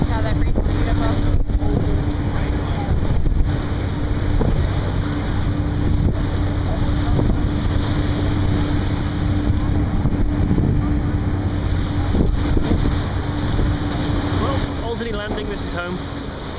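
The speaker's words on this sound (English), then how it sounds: "How that breeze is beautiful." Breeze during a boat ride from Dartmouth to Halifax, heard as a loud, steady wind rush buffeting the microphone over a constant low engine drone and water wash.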